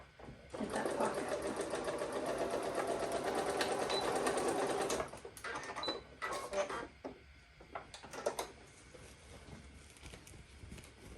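A home sewing machine stitches a pocket seam on smocked pants, running in one steady, close burst for several seconds, then a few short stop-start runs and light handling clatter.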